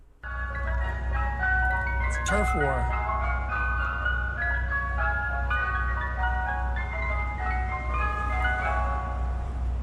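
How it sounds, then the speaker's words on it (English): Two South Philadelphia ice cream trucks play jingles loudly and continuously, tinny melodies overlapping above a low engine rumble, with a voice speaking briefly. "2 South Philadelphia ice cream trucks engaged in what appears to be a turf war"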